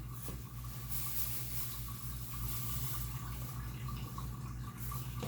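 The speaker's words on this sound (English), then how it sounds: "We're going to go ahead and fill the basins up with warm water." Warm water running from a tap into basins, a steady hiss of filling water that holds evenly throughout with no speech.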